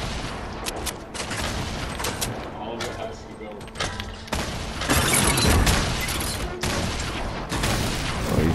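Grenade launcher blasts and gunfire in the Fortnite Battle Royale video game, a dense run of loud booms and bursts with a player talking over parts of it.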